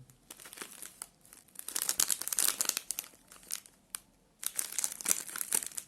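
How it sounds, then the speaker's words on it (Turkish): A Milka Choco Pause chocolate multipack being torn open, with crinkling plastic wrapper sounds in irregular close bursts and brief quiet gaps between them. "Hadi gelin biz paketi açalım hemen"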